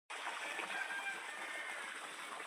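Water pours steadily into a household water tank, a constant rushing splash that begins abruptly and carries on evenly at moderate volume.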